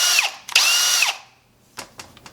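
A Milwaukee cordless drill, freshly repaired after a trigger fault, whirs up loudly in two bursts of about half a second each, winding down after each one. A few short clicks and rattles follow.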